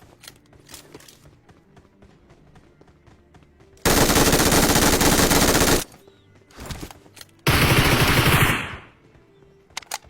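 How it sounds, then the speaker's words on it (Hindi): UMP submachine gun fire in PUBG, two loud sustained bursts of rapid automatic shots against a quieter background of faint game ambience and small noises. "तब यहाँ पे लेफ्ट साइड से चली UMP"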